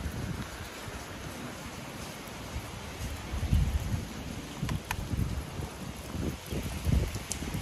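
Steady rain falls outdoors during a dog walk, a broad even hiss with a few louder gusty swells and scattered sharper drips, no voices.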